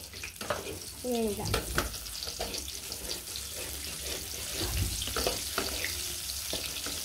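Onion and garlic frying in oil for tomato chutney, a steady close sizzle with scattered stirring scrapes and clatter throughout.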